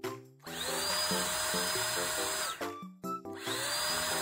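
Cordless rechargeable air duster, styled like a Makita tool, blowing with no nozzle attached: a loud, steady high whine and rushing air in two long bursts separated by a short pause, heard close up with no talking.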